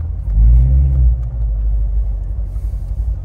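A car's deep exhaust rumble with the valve open swells loudly, then settles into a lower steady burble, close and bass-heavy.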